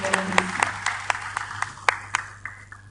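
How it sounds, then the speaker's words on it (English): Scattered, fairly close hand claps from a small crowd honoring a prize-winning team at an awards ceremony, a dozen or so distinct claps spaced unevenly and thinning toward the end. "Big round of applause for them."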